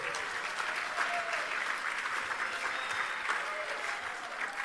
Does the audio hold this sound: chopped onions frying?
no